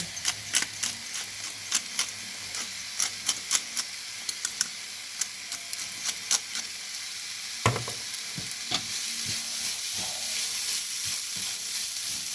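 Fish fries crispy in hot oil with a steady loud sizzle, punctuated by irregular sharp clicks and taps that thin out partway through.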